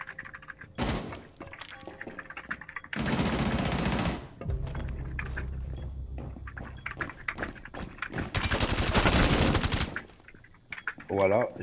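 Automatic gunfire in the tactical shooter Rainbow Six Siege comes in three loud, sustained bursts separated by quieter stretches with scattered thuds and small clicks.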